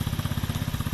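Motorcycle engine idling nearby, a steady fast low-pitched pulsing throb that stays even throughout the short stretch.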